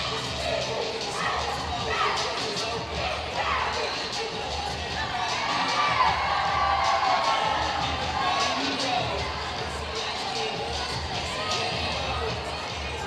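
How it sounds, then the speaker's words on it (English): Dense roar of a crowd cheering and shouting in a gym at a high school volleyball playoff game between Atlanta and White Oak, sustained and reverberant, with voices mixed throughout. "the crowd looking to bring a little bit of atmosphere to the cheer team shows up for both squads"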